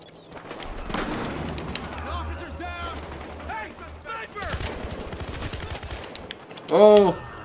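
Silenced weapon fire with heavy recoil in the multiplayer shooter Battlefield Hardline, rapid muffled shots rattling under a talking voice, with a louder burst near the end.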